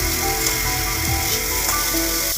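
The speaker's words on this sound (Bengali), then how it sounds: "দেখেন বেগুন ভাজা করছি।" Brinjal slices fry in hot oil in a home kitchen, giving a steady close sizzle and crackle with a few faint clinks, with no talking.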